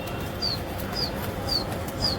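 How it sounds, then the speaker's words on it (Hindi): Pigeons released at Jama Masjid take off with steady, repeated wing flapping, about one burst every half second, over a constant broad outdoor hiss. "ये लो जी माशाल्लाह खुल गया कबूतर"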